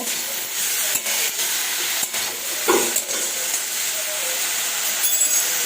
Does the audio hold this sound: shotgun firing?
no